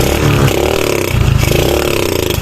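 A motorcycle engine, long left sitting and just revived after repair, with a suspect carburetor, idles steadily and loudly close by, a continuous rough throb with slight clattering and no voices.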